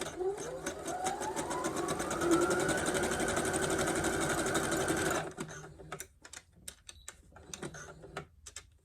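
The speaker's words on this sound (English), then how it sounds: "Raise my presser foot, turn, and sew." A sewing machine stitching a pocket on a pair of shorts runs in one steady continuous burst for about five seconds, then stops, leaving scattered soft clicks and handling sounds, close by.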